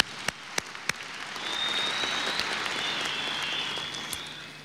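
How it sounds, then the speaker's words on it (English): An audience at a commissioning ceremony breaks into sustained applause lasting several seconds, preceded by a few sharp isolated claps, heard at moderate distance in a large hall. "we again give you another round of applause to thank you for this great work"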